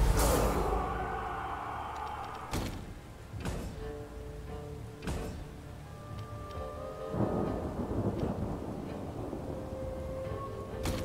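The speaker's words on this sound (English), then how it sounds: "Oh, it's raining." Video game rain hisses steadily throughout a medieval battle while several loud thunder cracks and rumbles break in, with a low tonal drone underneath.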